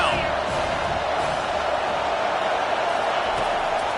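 Dense crowd roar in a PS5 football video game as fans cheer for the defense on third down, a steady, loud wash of noise with no pauses.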